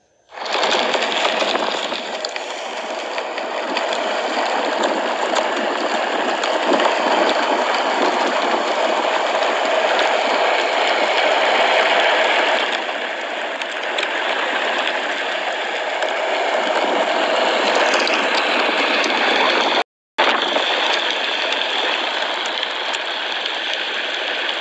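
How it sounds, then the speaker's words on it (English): Continuous rushing wind and motor noise come from riding a Onewheel Plus electric board fitted with a 2X upgrade. The noise is loud and close throughout, cutting out for a moment near the end. "Here's a quick video of me riding with a 2X installed."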